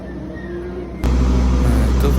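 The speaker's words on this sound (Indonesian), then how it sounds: "itu kereta yang tadi kita naikin udah jalan lagi dia" KRL commuter train pulling away from Jatinegara station, a low heavy rumble swelling abruptly after a second and holding steady, close and loud, with faint voices in the background.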